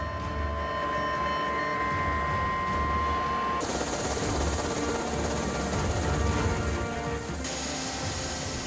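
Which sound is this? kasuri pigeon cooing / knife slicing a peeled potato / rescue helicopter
rescue helicopter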